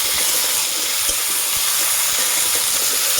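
Cut bottle gourd stalks and potatoes stirred with turmeric and spices in a hot pan give off a loud, continuous sizzling hiss that stays even throughout, with no voices.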